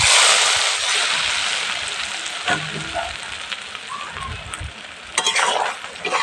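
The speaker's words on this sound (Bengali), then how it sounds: "এই তেলের ফোড়নটা দিয়ে দেবো" Hot oil tempering poured over beef kala bhuna, bursting into a loud sizzle that slowly fades, followed by clinks and stirring in the pot.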